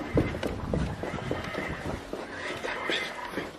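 A child's toy rocking horse gives off electronic horse sounds, clip-clop hoofbeats mixed with whinnying, playing close by in a dense, continuous stretch with faint breathy noise around it.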